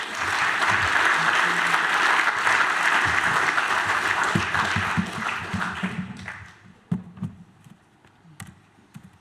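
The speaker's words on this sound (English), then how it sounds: "Give him a round of applause." A conference audience at a talk on heat network projects gives a round of applause, dense clapping for about six seconds that thins into scattered claps and fades out.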